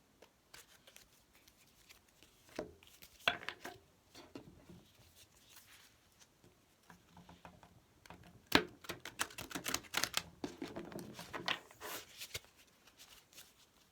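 Tarot cards riffle and slap together in short bursts, a quiet shuffling with brisk flurries of papery clicks.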